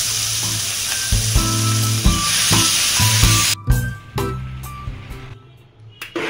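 Fish coated in salt and turmeric sizzles loudly in hot oil in a pan, a continuous crackling hiss broken by a few bursts, then quieter spitting as the frying settles near the end.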